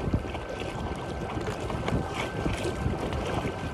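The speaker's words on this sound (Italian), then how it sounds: "vi assicuro che il vento c'è" Steady wind roaring across the microphone while a small 3D Tender inflatable dinghy is paddled upwind back toward the dock, a constant dense rush with faint water sloshing beneath and no talking.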